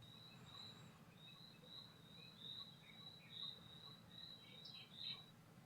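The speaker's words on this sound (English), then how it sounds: "Those crickets." Crickets chirp in a steady, repeating high trill with a few brief louder bursts, faint and continuous over a quiet background.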